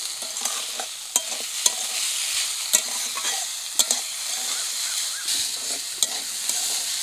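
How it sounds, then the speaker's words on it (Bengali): A spoon stirs potatoes, chopped onions, green chillies and salt in a hot pan, knocking and scraping in an irregular rhythm over a constant sizzling hiss, close and clear with no voices. "এবার ভালো করে নেড়ে চেড়ে নেব"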